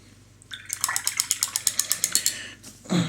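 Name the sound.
rinsing a paint brush in water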